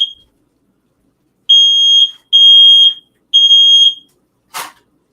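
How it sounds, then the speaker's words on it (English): A household smoke detector shrieks in a kitchen during cooking, a piercing high electronic tone sounding in three repeated bursts after a brief opening chirp, followed by a short clatter. "At least you know that I have a fire smoke detector."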